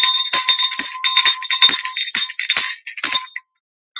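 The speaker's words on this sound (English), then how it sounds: "I'm going to ring the bell." A bright bell rings in a quick series of repeated strikes, loud and close, then falls abruptly silent.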